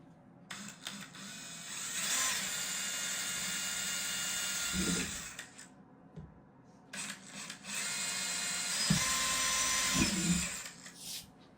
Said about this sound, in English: I'm going to pre-drill with a smaller drill bit.